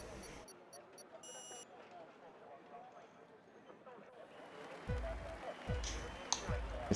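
Race start countdown beeps in a Bahrain online racing event: a few short, sharp electronic tones, then a longer one, under a commentator's voice, followed by a low engine roar.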